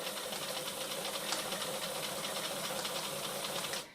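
A sewing machine runs steadily while stitching a fabric dog bandana, a continuous whirring buzz with a fine rapid rhythm that stops abruptly near the end, with no talking.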